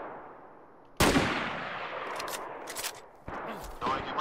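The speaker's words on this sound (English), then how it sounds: "I got sniped." A sniper rifle shot fires in a video game, a sudden loud crack followed by a sustained noisy tail, then a second sharp report near the end amid ongoing gunfire clatter.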